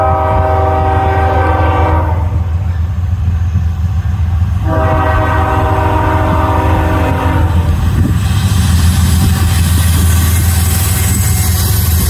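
A northbound Norfolk Southern NS26C intermodal freight train passes the Millsdale Avenue crossing on track one, sounding two long, loud horn blasts over the heavy, steady rumble of the train close by.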